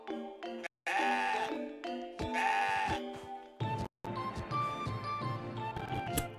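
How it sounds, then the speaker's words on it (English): A goat in CrossCode bleats repeatedly in loud, quavering calls, separated by brief gaps, with no one speaking. "Here's the goat."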